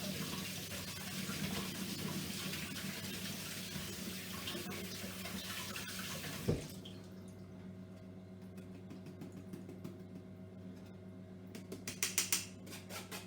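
Seeds rinsed in a strainer under a running tap after fermentation, heard as a steady close gush of water that cuts off midway, leaving a quiet hum and a few light clinks and rattles near the end.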